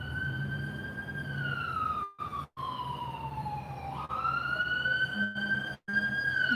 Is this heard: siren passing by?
yes